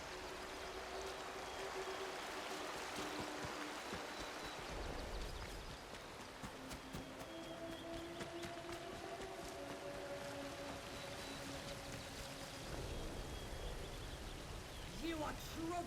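Water rushes in a steady broadband hiss from a waterfall in the Atomfall video game, constant and fairly close, with scattered drips and light clatter mixed in.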